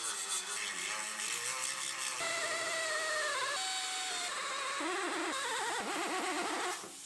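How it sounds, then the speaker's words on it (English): A grinder whines and rises in pitch as it cuts a frame piece out of a 2019 Ford Explorer, a harsh, steady metallic drone close by that shifts in tone over several seconds. "So now we can grind this piece out of the car."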